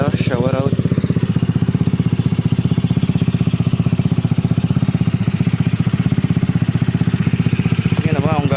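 A Yamaha Mio 192cc motorcycle engine idles steadily after a cold start, a loud close even chugging pulse that holds throughout, with a brief rising rev at the start and end and a voice speaking faintly over it.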